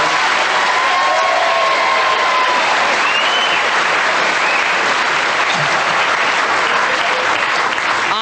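A studio audience at a radio panel game breaks into loud, sustained applause with a few cheers, a dense continuous clatter of clapping hands throughout.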